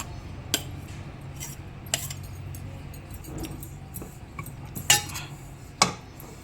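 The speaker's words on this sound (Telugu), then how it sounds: "ఇలా కలిపేసుకోవాలి పౌడర్ని." Ground dry coconut spice powder being stirred in a pan with a metal spoon, giving quiet scraping and a handful of sharp clinks of utensil against metal, close and alone.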